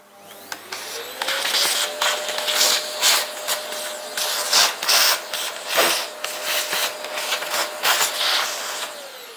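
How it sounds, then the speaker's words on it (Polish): A vacuum cleaner running continuously and loudly up close while chalk-painted furniture is hand-sanded, with a steady whine and rough, repeated scraping strokes layered on top. "w międzyczasie używam odkurzacz"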